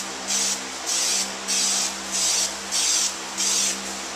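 Nightshades tint sprayed onto car taillights in six even aerosol bursts of about half a second each, with short gaps between them, loud and close over a faint steady hum.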